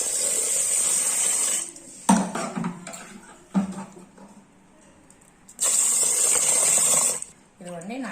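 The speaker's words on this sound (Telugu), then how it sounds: "4 గ్లాసుల వాటర్ పోసుకుందాం" Water being poured from a glass into washed rice in a pot for bagara rice, two bursts of steady splashing pour separated by quieter handling clatter and brief knocks.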